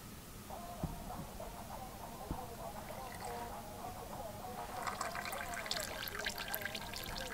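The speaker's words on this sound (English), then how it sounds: "Because it's falling on the oil. There's more oil, that's why it's making a dripping sound." Motor oil drips steadily onto oil and a blanket during a blindfolded oil change, a run of soft wet plinks growing busier and brighter midway under constant background noise.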